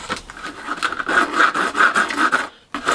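Hand filing along the edges of clear plastic sheet for a display case, a steady rasping scrape in repeated strokes, close and fairly loud, with a short pause near the end.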